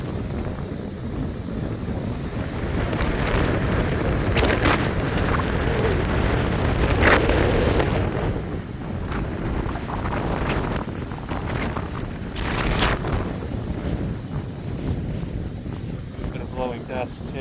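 Strong, gusty wind ahead of a severe thunderstorm on July 4 in the USA, a loud, steady broadband roar buffeting the microphone for the full stretch, with swells and brief gusts throughout.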